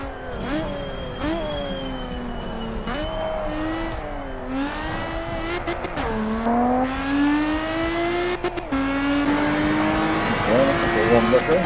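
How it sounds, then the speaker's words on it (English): A Lotus Exige V6 Cup engine in a racing video game revs and climbs through rising gears with repeated shifts, a loud, steady whine that grows stronger toward the end, accompanied by occasional tire noise. "got to pay attention to RPM sound to get an idea of traction lost"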